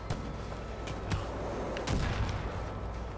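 Gunfire in the open-world shooter Far Cry 5, several sharp distant-sounding shots and booms spread over a steady ambient bed, moderately loud, with no one speaking.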